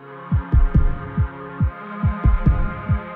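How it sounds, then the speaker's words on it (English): A recorded human heartbeat opening a song, steady deep thumping pulses in paired beats over a sustained droning synth chord. "the song that opens with her own heartbeat."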